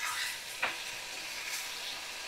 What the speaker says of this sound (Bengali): তো ভালো করে আমি কষিয়ে নিচ্ছি মশলাগুলো,